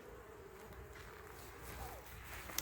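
Bees buzzing steadily around a busy, newly placed backyard hive in hot weather. The hum is soft and continuous, with faint individual insects passing close by.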